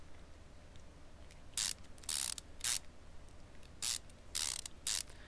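A power ratchet drives screws back in during engine reassembly in Car Mechanic Simulator 2015, a series of short, crisp mechanical whirring bursts in an uneven rhythm over a quiet background hum.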